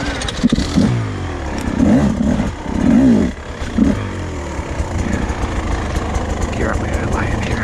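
A 2024 Beta 250 RR dirt bike engine runs steadily throughout while riding, with rising and falling revs and some clatter, and a voice talks over it for the first few seconds.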